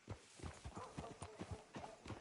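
Horse hooves clip-clop in a steady walking rhythm in Red Dead Redemption 2, close and fairly quiet, with regular soft impacts and no talking over them.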